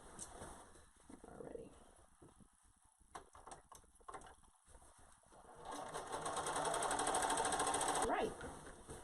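A sewing machine stitches the underarm seam of a reusable isolation gown, with short runs and pauses early on, then a long steady whirring burst near the end; a voice speaks faintly in between.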